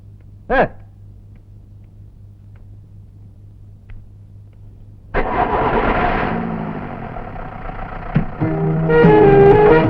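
A vehicle engine cranks and catches, rising into a loud steady rumbling idle after a quiet stretch with a brief tone near the start, then revving louder toward the end.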